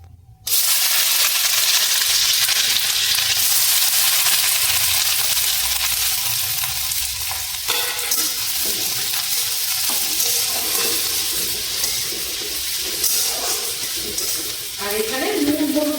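Garlic, onion and four dried red chilies sizzle in hot oil for Bengali prawn bharta, a loud, steady frying hiss that runs almost the whole time, with occasional stirring scrapes and no talk.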